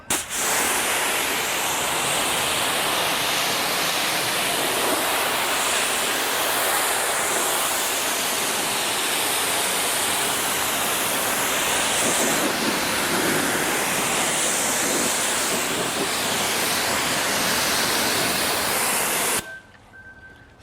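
A pressure water spray rinses a Range Rover L460 in a loud, continuous close-up hiss and splatter that lasts nearly twenty seconds before stopping abruptly.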